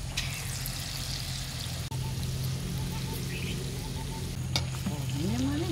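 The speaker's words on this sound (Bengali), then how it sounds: "একইভাবে সব ফুলুরিগুলো ভেজে নিচ্ছি।" Fritters made from palm fruit pulp frying in a pot of hot oil, a loud, steady, close sizzle that runs throughout with a brief clink and faint background sounds.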